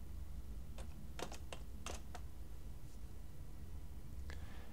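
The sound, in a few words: typing 'movie' on a computer keyboard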